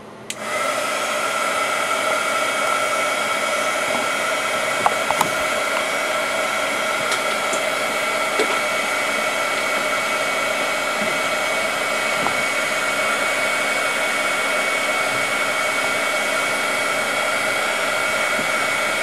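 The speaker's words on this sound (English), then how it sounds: "I'm going to use my heat embossing tool to melt the embossing powder." Heat embossing tool, a small heat gun, melting embossing powder: a loud, steady blowing whir with a high whine that switches on abruptly and runs unbroken for the full span, close and alone.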